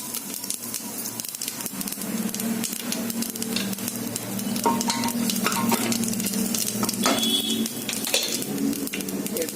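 Cumin seeds and dry red chillies tempering in hot oil inside a pressure cooker, a steady close sizzle and crackle joined by stirring and scraping, growing louder midway, with no talk.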